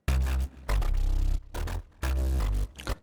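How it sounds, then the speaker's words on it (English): A dry synthesizer bass plays a rhythmic line of deep, buzzy notes in short repeated phrases with brief gaps between them. "Then we have a different bass line here."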